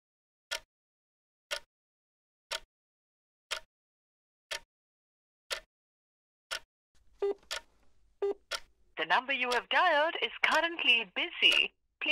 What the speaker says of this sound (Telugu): ఇంకా బిజీటోనే వస్తుంది